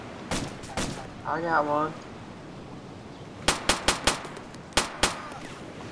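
Gunfire from an Arma 2 battle: two sharp early shots, then a rapid cluster of five or six cracks and two more shortly after, with a brief voice speaking between them.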